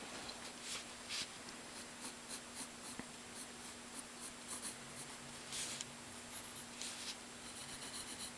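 A pencil scratches out short lines and small circles on paper while sketching a manga-style sneaker with its laces, soft steady scribbling with brief pauses, close and quiet, with a faint low hum underneath.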